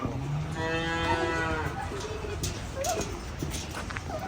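A cow lows once in a long, drawn-out moo close by, followed by quieter farmyard sounds and light background noise.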